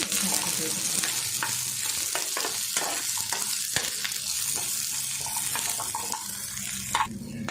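Onion, tomato, ginger and garlic sauté in a pan for a soya chunk gravy, producing a close, constant sizzle broken by scraping spatula stirs.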